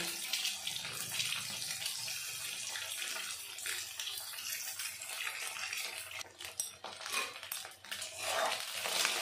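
Eggs cut into pieces and dusted with a little turmeric fry lightly in a pan for a gourd-and-egg curry, giving a steady, bright hiss and crackle that runs continuously, dipping briefly near the end.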